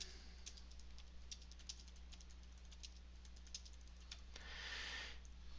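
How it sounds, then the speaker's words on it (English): Computer keyboard keys clack in quick, uneven bursts, faint and close, with a steady low electrical hum underneath and a brief hiss near the end. "You can type your comments in here."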